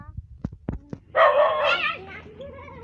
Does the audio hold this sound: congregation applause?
no